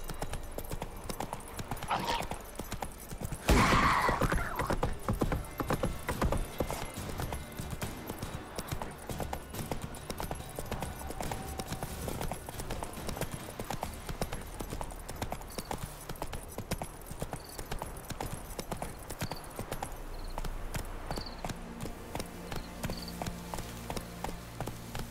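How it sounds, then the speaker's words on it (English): Roach, a horse in The Witcher 3 video game, trots along a road with steady rhythmic hoof clip-clops, clear and close throughout, with a brief louder burst early on and a voice talking faintly at times. "you gotta guide the roach through the crossroads, because, well, I'm simply holding shift and it tries to follow the road"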